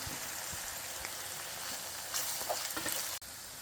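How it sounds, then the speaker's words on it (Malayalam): Mustard seeds and chopped ginger sizzle steadily in hot oil, a close, even crackle with scattered pops and a sharp clatter near the end. "എണ്ണയൊന്ന് ചൂടായിട്ടുണ്ട്. അതിലേക്ക് നമുക്ക് കടുകിൻ്റെ അലകിട്ട് കൊടുക്കാം. അതിലേക്ക് ചോപ്പ് ചെയ്ത് വെച്ച ഇഞ്ചി."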